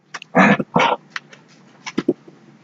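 A pet dog lets out a few short, close barks and huffs, two strong ones near the start followed by a couple of quieter yips, with room quiet between them.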